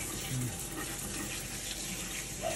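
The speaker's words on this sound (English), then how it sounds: "Let me rinse your leg." Tap water runs steadily as a monkey's leg is rinsed during bath time, a soft, continuous splashing stream heard close by in a quiet room.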